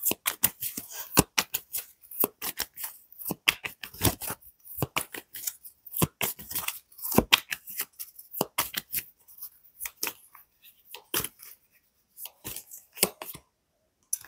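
Tarot cards are handled and drawn close up, with dense, irregular papery snaps, slides and flicks that thin out toward the end.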